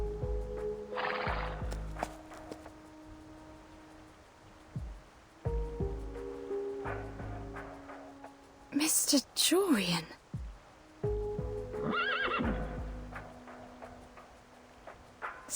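Horses from the video game Reverse: 1999, seemingly turned into striped horses, neigh sharply and whinny in the middle, with hoof clopping and scattered game sounds around them, between stretches of dialogue.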